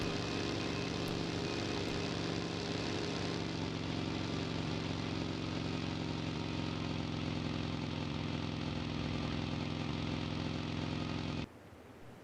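A vehicle engine in PUBG Mobile runs steadily, a dense continuous mid-pitched drone like a motorcycle or car idling and driving, holding the same level for about eleven seconds before cutting off abruptly.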